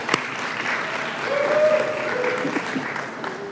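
Audience clapping at a university nursing pinning ceremony: continuous, even applause from a seated crowd, moderately loud, with a few faint cheers mixed in.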